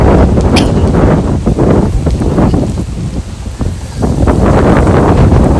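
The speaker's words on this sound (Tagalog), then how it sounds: "Ay, sarap ng hangin." Steady wind rushes past a cargo ship during a flag-raising on HKSAR Establishment Day in Hong Kong, a loud, continuous buffeting roar over the microphone that dips slightly midway and swells again.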